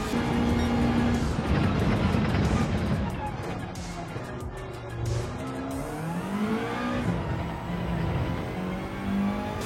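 A race car engine revving hard and shifting up through the gears, climbing to the rev limiter before each quick change, loud and close, with someone talking over it.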